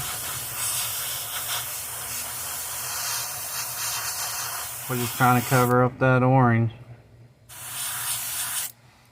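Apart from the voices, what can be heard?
spray paint hissing onto a bicycle crank over a stencil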